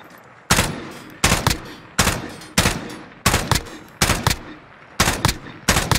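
Gunfire in a multiplayer battle royale video game, short bursts of close, loud shots repeating roughly every half second to second with sharp attacks and brief decays, no speech.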